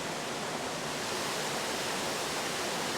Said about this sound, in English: the waterfalls just outside of Gothland at a place called Beckhall